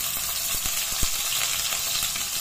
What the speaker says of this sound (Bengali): তেলে দিলাম পনির,